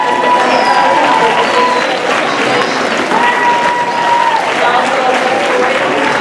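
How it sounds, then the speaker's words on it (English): Eighth grade students applaud a guest speaker in a school setting, a loud, dense, sustained round of clapping from a large crowd, with voices calling out under it and a brief spoken word. "Eighth grade, can y'all stand up and give Mr. Kemokai a round of applause?"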